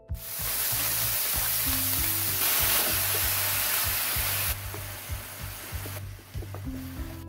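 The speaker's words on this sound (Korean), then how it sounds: "식용유를 두르고 고기를 굽습니다." Pork belly sizzling loudly in hot cooking oil in a pan for Korean duruchigi, a dense steady frying hiss with occasional stirring scrapes, fading somewhat toward the end.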